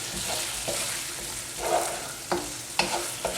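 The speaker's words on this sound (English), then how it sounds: "Give that a stir." Fresh thyme being stirred into a Jamaican goat curry in a pot: soft, continuous sizzle under a few scraping spoon strokes and light knocks, close and moderately quiet.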